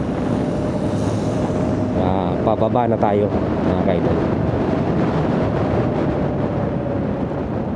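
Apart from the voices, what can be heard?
boat motor engine running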